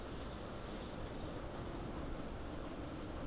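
A train runs along the rails between Innsbruck and Munich in the Train Simulator 2018 game, giving a steady, even rumble and hiss of wheels and carriages with no breaks and no talking.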